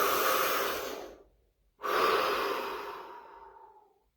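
A deep breath: a long, close inhale of about a second, a short pause, then a slow, fading exhale, heard alone in a quiet setting.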